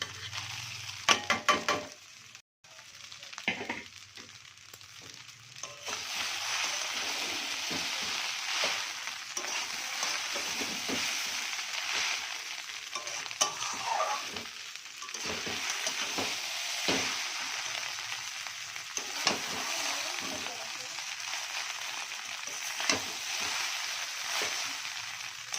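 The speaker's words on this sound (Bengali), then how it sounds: "কিছুক্ষণ ভাজা হয়ে গেছে, বুঝতেই পারছো।" Vegetables for chow mein fry in a pan with a continuous, moderately quiet sizzle. Repeated spoon scrapes and taps from stirring run through the sizzle, after a brief quieter start.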